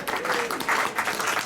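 A short burst of crowd applause, dense clapping with some voices mixed in.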